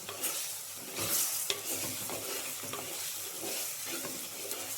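Cubed tomato frying in a spice mixture in a pan, sizzling under repeated stirring and scraping strokes, close and continuous with a few sharper utensil scrapes.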